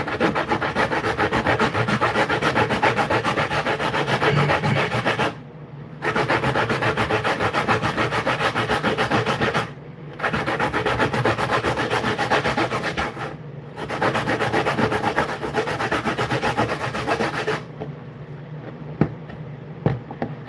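Sweet potato rubbed on a hand grater in long continuous rasping strokes, close and loud, stopping briefly three times before ending, with faint handling sounds afterward.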